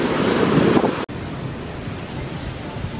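Surf and wind on a beach in Curaçao on a hot morning, a steady broadband wash of waves with gusting wind noise on the microphone and one brief dropout near the start.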